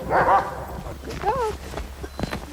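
A sled dog gives short, close yips and whimpering barks in a few bursts, with a voice nearby.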